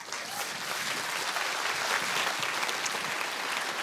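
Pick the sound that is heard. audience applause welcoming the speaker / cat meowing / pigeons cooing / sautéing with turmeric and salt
audience applause welcoming the speaker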